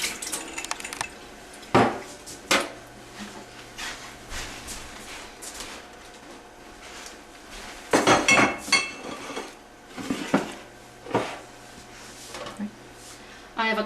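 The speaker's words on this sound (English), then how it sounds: "So I'm going to run this through my strainer." Tomato seeds and water poured through a strainer, giving soft splashing and trickling with scattered clinks of metal and dishware, several louder bursts of pouring and clatter over a low, steady background hum.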